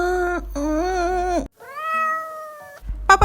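A cat meows several times in a row, loud and close, with drawn-out tonal cries separated by short pauses and a sharper call at the end.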